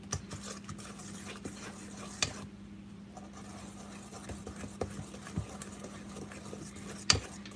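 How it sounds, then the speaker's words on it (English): Cake batter being stirred by hand in a bowl, with soft, steady scraping and occasional sharper knocks of the utensil against the side, quiet and close, under a low steady hum. "just stirring it by hand is a lot funner"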